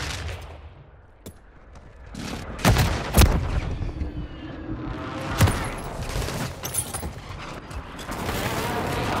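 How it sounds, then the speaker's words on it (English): Precision airstrike explosions in a video game: several heavy, sharp blasts and crackling bursts of fire break over a rumbling battlefield background, with the loudest impacts near the middle of the clip. "Friendly precision airstrike inbound."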